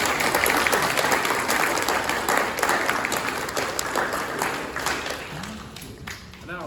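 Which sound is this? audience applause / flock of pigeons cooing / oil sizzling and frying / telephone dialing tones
audience applause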